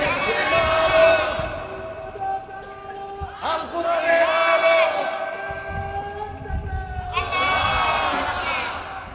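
A large crowd at an Islamic waz sermon gathering shouts slogans in three loud, ringing bursts of massed voices, with pauses of murmur between them.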